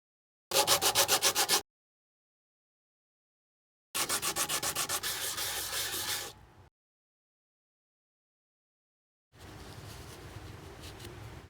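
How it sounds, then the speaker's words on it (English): Sandpaper rubbing the jagged edge of a small resin charm in three separate bursts of quick rhythmic back-and-forth strokes, close and crisp, with silent gaps between. "First, we will sand down this edge and then the surface will be domed"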